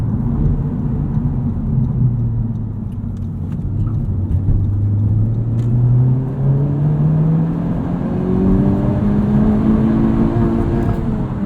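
A 2021 Honda Civic Type R Limited Edition in sport mode carries a loud, steady engine drone, its pitch rising and falling through corners with constant road noise underneath.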